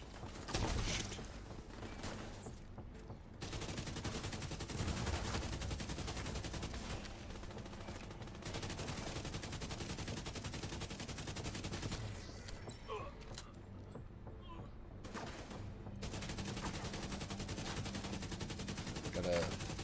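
Sustained automatic gunfire in The Division 2, long loud bursts of rapid shots with brief pauses, one near the start and another around the middle, with distant firefight noise behind and occasional voice chat.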